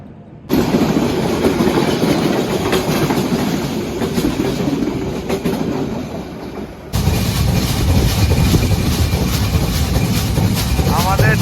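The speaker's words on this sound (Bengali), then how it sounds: "একটু পরেই আমাদের ট্রেনটা থামবে" A passenger train runs on rails toward Hyderabad station near the eastern end of the Jamuna Bridge, heard from inside as a loud, continuous rumble with rhythmic clatter that briefly dips, then surges louder again.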